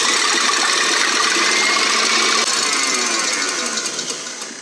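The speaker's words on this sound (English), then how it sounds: "We're gonna use the whisk attachment to whisk these egg whites until they're light and fluffy." A stand mixer's whisk attachment whips egg whites, a loud steady motor whir with a rapid rhythmic beating that holds constant, then tapers slightly toward the end.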